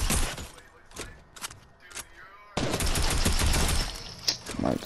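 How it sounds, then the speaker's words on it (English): Bursts of gunfire in the video game Fortnite: sharp shots and short volleys in the first half, then dense, rapid automatic fire that runs loudly to the end. "Better stop shooting at me"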